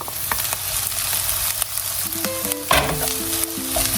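Chopped celery tumbles into a pan of caramelized onions, sparking a steady close sizzle with stirring scrapes and clinks from a utensil against the pan as the vegetables fry for caponata, with no voices.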